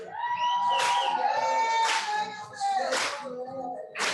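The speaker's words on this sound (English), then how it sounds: "Come on, keep it clapping." Graduation ceremony audience claps in short bursts roughly once a second while a voice reads out names over a microphone, the clapping swelling between names beneath the steady speech.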